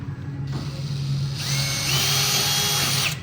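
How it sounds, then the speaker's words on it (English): A power drill whines steadily at close range, its motor rising in pitch as it bites into material, then running on for a few seconds before stopping. "Then we're gonna get our drill bit again."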